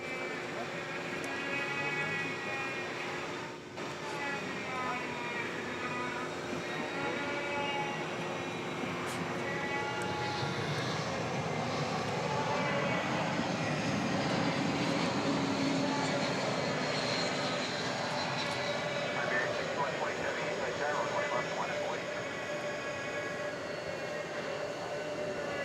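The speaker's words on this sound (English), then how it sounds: "Oh, the A380 is on the move." An Airbus A380 taxiing at DFW Airport at night, a loud sustained engine roar with whining tones that swells and holds steady, with people talking over it.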